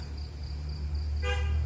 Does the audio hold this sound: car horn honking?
yes